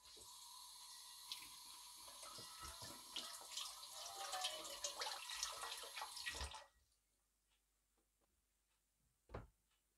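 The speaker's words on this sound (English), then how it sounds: "what we're gonna do now is wash the leaves a bit" Running tap water over aloe vera leaves being washed in a sink, a steady rushing splash for about six seconds that stops abruptly, followed by near silence and a single soft knock.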